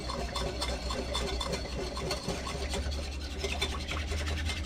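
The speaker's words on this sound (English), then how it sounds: "stir this together" Dill pickle relish stirred together in a regular bowl, a continuous wet scraping and rubbing sound with a steady rhythm, close and fairly loud.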